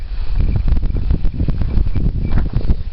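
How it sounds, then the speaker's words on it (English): Gusty wind buffets the microphone in an outdoor berry garden in Western New York, a constant low, rough rushing with uneven surges. "it's getting windy"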